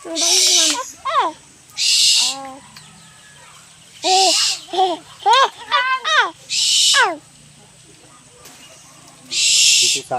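Owl in South Sulawesi being trained, giving a series of loud, close wavering hoots and calls in several bursts, alternating with sharp bright hissing or shushing noises, over quiet outdoor background.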